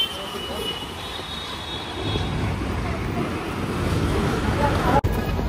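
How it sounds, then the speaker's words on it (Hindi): Steady road traffic outside Bandra station in Mumbai, a continuous low rumble of passing cars and trucks that swells slightly, with a sharp click near the end and no talk over it. "यहाँ का आपको ट्रैफिक दिखाता हूँ"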